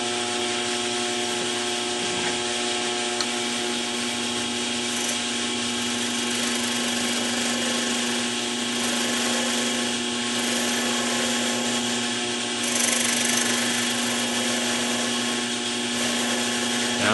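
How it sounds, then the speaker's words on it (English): Wood lathe spinning steadily with a skew chisel shaving a taper on a wooden pencil barrel made to fit a Pentel pencil, a continuous close whir and hum with light scraping rubs running throughout, no talking. "Then I work on this taper right here with a skew."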